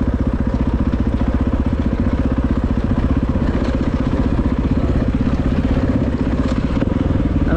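A dirt bike engine at an off-highway vehicle area runs steadily and fairly close, a continuous mid-pitched buzz with clattery texture and no speech over it.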